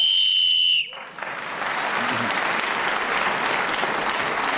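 A sharp, loud whistle blast ends a round of the radio panel game Just A Minute, cutting off abruptly before studio applause swells and carries on steadily.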